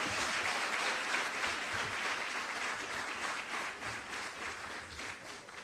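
A town hall crowd gives a steady round of clapping at a Jamaica diaspora meeting in Trinidad. The applause is dense and moderately distant and tapers slightly toward the end.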